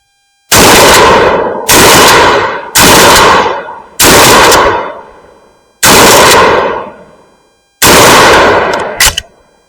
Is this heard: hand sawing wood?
no